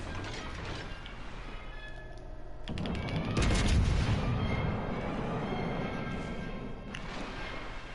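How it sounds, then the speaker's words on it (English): A ship's rear cannon fires in a naval video game: a loud booming blast with mechanical clatter and a rumbling tail, heard close and alone. "I need to hit him with my rear secondary. With my rear cannon."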